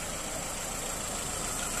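A black 2005 Skoda Fabia 1.4 petrol automatic hatchback idles with a steady, even hum and a light hiss, close to the listener and with no voices.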